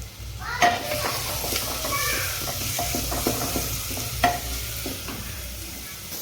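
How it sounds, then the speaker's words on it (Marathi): Chopped onion fries in a pan with ginger-garlic paste for khichdi, a loud continuous sizzle broken by a few sharp spoon knocks against the pan, close by and without speech. "कांदा मस्त थोडा पिवळसर होऊ दे मस्त पद्धतशीर"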